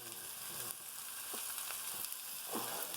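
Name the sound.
onions and garlic sautéing in a pan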